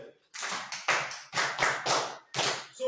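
Classroom students clapping during a math lesson in bursts of rapid, close, sharp claps separated by brief gaps, with no talk over them.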